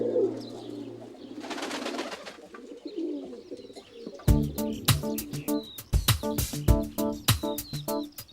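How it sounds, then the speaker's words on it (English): A dove sounds soft cooing calls amid faint ambient noise, followed by a burst of loud, rhythmic brassy music with sharp strikes that takes over the second half. "the dove is a holy bird"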